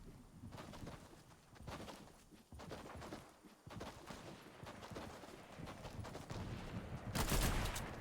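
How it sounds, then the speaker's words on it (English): Sporadic gunfire during a Fortnite esports match, with scattered shots and short bursts popping at moderate distance amid game ambience, including a sharper, louder volley near the end. "Shots fired because there's teams from below"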